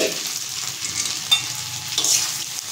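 Drumstick (moringa) vegetable curry being stirred in a pan, giving a steady soft sizzle with scraping stir strokes and a couple of sharper clinks, close and alone.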